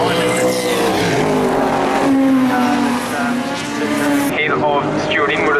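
V8 sports sedan race cars, including an ex-Perkins Motorsport V8 Supercar and a VS Commodore, race at Winton, their engines roaring loud and continuous with rising and falling pitch as they pass, alongside commentary speech.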